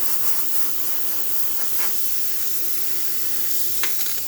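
Steam wand on a freshly serviced Quick Mill Silvano Evo espresso machine releasing a steady, loud hiss of steam, continuous and close, alongside a low pump hum and a few brief sputters.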